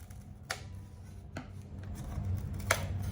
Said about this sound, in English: I'm gonna cut around this foam with my scissors.